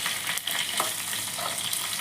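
Curry leaves, mustard seeds and green chillies crackle and sizzle in hot oil for a Bengali white dhokla tempering, a steady close frying hiss with sharp pops, no voices.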